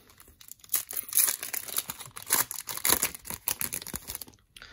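Foil packs of 2023 Topps MLS trading cards are torn open up close, a burst of sharp crinkling, crackling and ripping that comes in quick uneven bursts, then stops.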